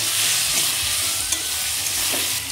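Potatoes, slit green chillies, salt and turmeric frying in a pan with whole cumin: a loud, close, continuous sizzle with stirring scrapes throughout.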